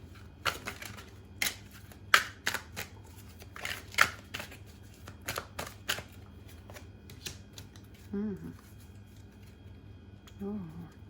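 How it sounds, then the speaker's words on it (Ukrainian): Tarot cards riffle and snap in quick bursts, a string of crisp shuffling sounds close up, with a brief voice-like tone late on. "Хочу я витягнути ще одненьку карту для роз'яснення."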